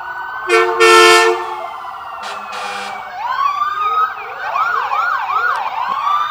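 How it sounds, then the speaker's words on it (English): An ambulance siren wails nearby at a parade, rising and falling in quick repeated sweeps, with a brief horn-like blast near the start. "the second ambulance unit coming around the corner"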